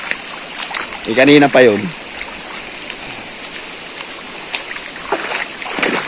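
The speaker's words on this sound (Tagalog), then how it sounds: "pangatlong ilog na yun, yung tinawid ko ngayon" A river flows with a continuous watery rush as someone wades across it, while a voice speaks briefly over the water near the start and the stream carries on alone afterward.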